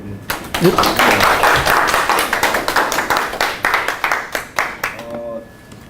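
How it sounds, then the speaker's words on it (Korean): Audience clapping in a Korean lecture hall as the chairman of the Wanju Local Food Cooperative is welcomed, a dense run of many hands that thins out toward the end, with a voice speaking over it. "우선 좀 큰 박수로"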